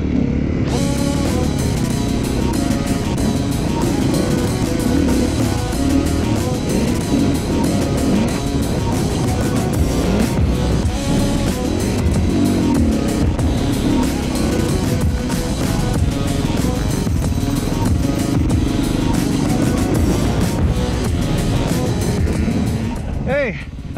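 A racing motorcycle at an AMRA road race round is ridden hard on a flat front tire. Its engine drones loudly and continuously under wind rush for the whole stretch, with no speech heard.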